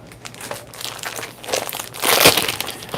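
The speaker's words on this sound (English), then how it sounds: "let me grab the cardstock we're going to use for the base of our cards here" Cardstock handled for card making, crinkling and crunching in bursts that build to a louder rustle near the end, close and alone without talk.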